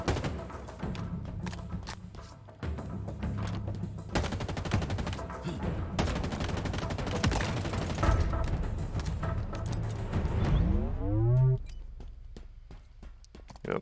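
Rapid bursts of pistol gunfire from the Halo Infinite video game fill a busy combat scene, with repeated sharp shots, thuds and a swelling effect near the end.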